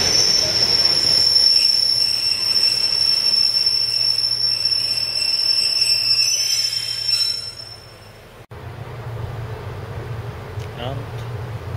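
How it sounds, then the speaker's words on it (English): A train pulls into Cardiff Queen Street station, a high, steady wheel squeal ringing over rumbling rail noise that eases as it slows and stops, with a brief pause in the sound before the idling hum continues. "Cardiff Queen Street, here's my train."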